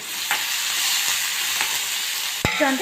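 Chopped ginger sautés in a hot pan while bun dosa is being cooked: a steady, close sizzle broken by a few soft stirring scrapes, with a sharp utensil clatter near the end. No one speaks.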